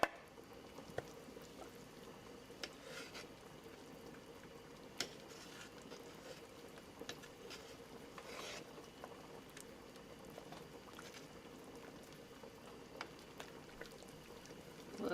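Beef birria broth simmering in a pot on the stove, a steady low bubbling and patter of liquid that runs evenly throughout, with a few faint sharper ticks and drips now and then.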